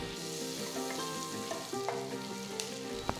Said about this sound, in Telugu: ఇప్పుడు ఒక వెడల్పాంటి ప్యాన్లో నేను రెండు టేబుల్ స్పూన్ల పచ్చి వెన్న వేస్తున్నాను